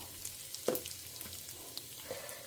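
Mustard seeds and a pinch of asafoetida frying in hot oil for tempering, a soft steady sizzle with a few faint pops and crackles, close by and without talk.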